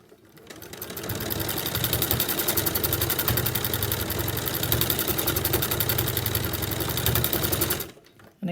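A sewing machine runs in a fast, steady rattling burst while back stitching over elastic on a simple laptop case, loud and close for about seven seconds before stopping abruptly.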